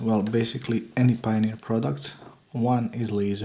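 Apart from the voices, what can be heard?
No everyday noise stands out behind the speech.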